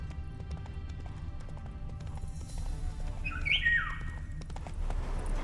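Hooves of Roach, Geralt's horse in The Witcher 3, galloping in a steady rapid clip-clop over a low rumble, with a bird chirping briefly midway and no talk.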